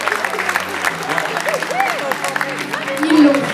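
Applause from a school audience at a lycée eloquence contest, a steady patter of clapping running under a presenter's voice for a few seconds.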